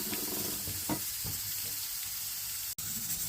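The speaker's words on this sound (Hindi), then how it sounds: "ये प्याज सौते हो गई है" Onion sautéing in a pan gives a steady, close sizzle with faint stirring scrapes and one sharp click near the end, and no one talks.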